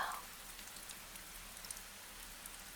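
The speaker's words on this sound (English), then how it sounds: "only the gentle sound of rain, falling, falling" Gentle rain falling in an old garden, a soft, even patter that holds steady throughout, faint and close with no voices over it.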